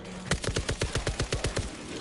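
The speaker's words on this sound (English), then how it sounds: "shooting his loud gun and then dying loudly in the distance" Automatic gunfire rattles in a zombie video game, a rapid burst of about a dozen evenly spaced shots heard from a distance, alone without talk.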